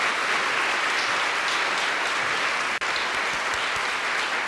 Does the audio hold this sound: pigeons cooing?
no